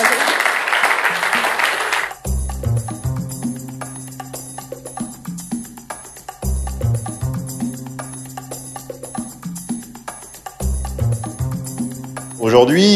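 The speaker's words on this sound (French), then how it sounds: "On peut applaudir Stéphane qui arrive sur la conférence." An audience applauds Stéphane Edouard arriving on stage at a conference: a loud burst of clapping lasts about two seconds, then gives way to a steady musical track.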